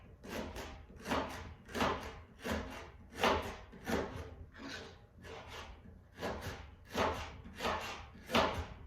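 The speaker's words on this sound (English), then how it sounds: "And let's chop away." Knife chopping celery on a cutting board, a steady series of crisp, evenly spaced woody chops close by, alone without talk.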